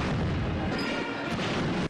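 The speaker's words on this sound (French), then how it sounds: "21 coups de canon." A cannon salute at a Zambian presidential inauguration, with a dense, continuous roar of booming artillery fire and crowd noise filling the whole moment, heard outdoors and loud.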